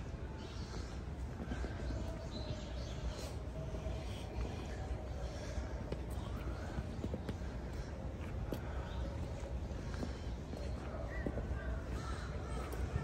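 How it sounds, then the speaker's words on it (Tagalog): Crows caw repeatedly at a distance over a quiet outdoor background in Tennoji Park, Osaka, the calls scattered and faint. "Daming uwak."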